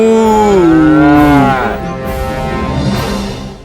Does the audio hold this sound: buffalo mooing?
yes